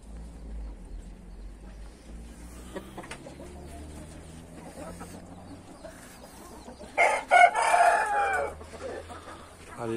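A rooster in a backyard flock crows loudly near the end, after a quieter stretch of scattered clucking and low background sounds.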